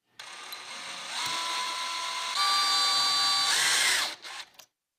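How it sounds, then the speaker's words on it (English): A small power drill boring a hole through a clamped copper penny, a steady high whine lasting about four seconds that climbs in pitch partway through and then cuts off abruptly. "all I need to do is clamp it down and drill a small hole in it"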